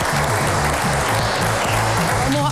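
A class applauds together, a steady loud burst of clapping close by, with a faint voice mixed in near the end.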